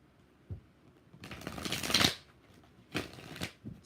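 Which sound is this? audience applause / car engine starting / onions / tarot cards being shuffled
tarot cards being shuffled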